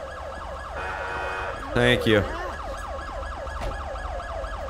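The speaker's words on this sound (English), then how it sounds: "Turn my siren off." A wailing police siren in Grand Theft Auto: San Andreas cycles steadily up and down, loud and close, with a short spoken phrase and a brief horn-like blast midway.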